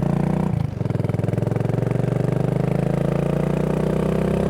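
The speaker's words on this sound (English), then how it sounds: "It's really nice to get back on the BSA, because that's a fantastic engine." A BSA Goldstar 650 motorcycle engine runs steadily while being ridden, a loud, close, throbbing single-note drone with a rapid even pulse after a brief dip at the start.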